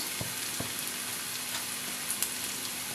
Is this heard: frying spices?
yes